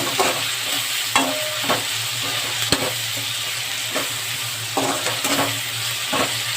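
Ingredients fry in a hot pan with a loud, continuous sizzle and crackle, punctuated by repeated sharp scrapes and taps of a spoon stirring against the pan, with no talking.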